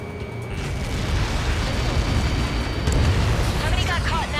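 Explosion in Ace Combat 7 from an incoming Helios projectile strike: a loud, sustained, rumbling blast that fills the whole stretch with dense, roaring low-end energy and no break.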